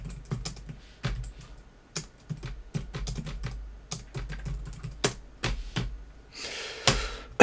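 Close, crisp keystrokes on a computer keyboard come in irregular bursts with short pauses, tapping out a terminal command, followed by a brief rustle at the end.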